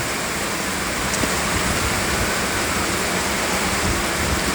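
Heavy rain pours down at Cochin airport in a dense, unbroken roar, loud and steady throughout with no pauses.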